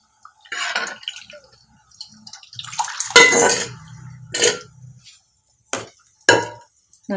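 A ladle clanks and scrapes against a pot while sambar of dal, vegetables and masala is stirred, giving several sharp metallic knocks separated by quiet gaps, along with a wet stirring swish.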